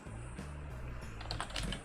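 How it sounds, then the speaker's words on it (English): Computer keyboard typing in steady, close clicks, with a brief flurry of sharper keystrokes near the end over a low constant hum. "In case you're wondering what I'm typing, this is it."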